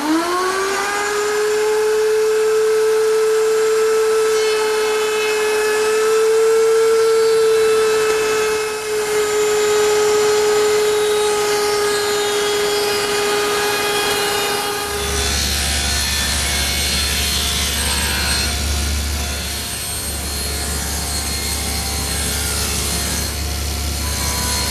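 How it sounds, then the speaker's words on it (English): A router table fitted with a quarter-inch round-over bit hums at a high steady pitch, then shifts to a louder, rougher cutting roar as square wood stock is fed past the bit. "I've set up my router table with a 1/4-inch rounding over bit and a couple feather boards to hold the stock in place"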